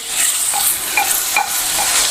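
Onions sautéing and being stirred in a pan while browning for a black chicken gravy, a steady close sizzle with scraping stir strokes, no talking.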